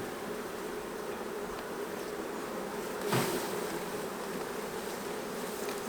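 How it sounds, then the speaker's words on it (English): Honey bees buzz around an open long hive, a continuous close droning hum with one bee swelling louder as it passes near, then fading back into the swarm. "And I've got another bee that's letting me have it."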